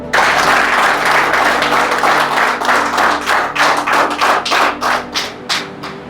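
A seminar audience claps on cue from a stress-management speaker, a loud, dense burst of many hands that thins toward the end into scattered, separate claps.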